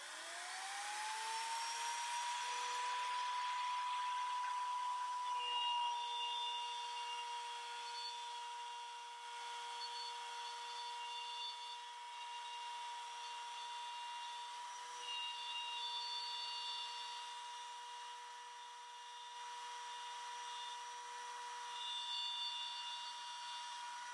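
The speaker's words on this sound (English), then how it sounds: "Let's do a cut across the grain and see how that goes." A 1/4in spiral upcut router bit spinning up and cutting across the grain of wood, a steady high whine that rises at the start and then holds at a constant pitch for a long stretch with a faint rushing noise.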